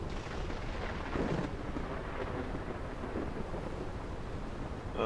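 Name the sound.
thunder from lightning strike in video game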